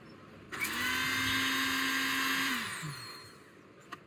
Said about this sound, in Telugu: పానాసోనిక్ మిక్సర్ మీకు ఇప్పుడు లైవ్ డెమో చేస్తున్నాను.